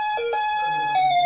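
A short electronic siren-like ringtone with wavering tones, loud and close, playing alone.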